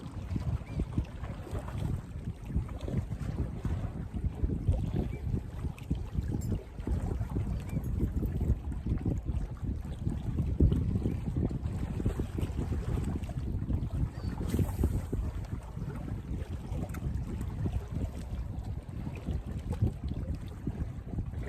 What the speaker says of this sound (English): the tide coming in, it's lapping at the rocks below my feet nicely